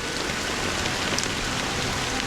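Steady rain pours in a Honkai Star Rail cutscene, a dense even hiss of drops on surfaces, close and continuous without pauses or voices.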